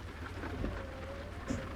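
Steady rain in American Truck Simulator, heard from a truck cab with the window open in Phoenix, a soft continuous patter with a couple of faint low rumbles.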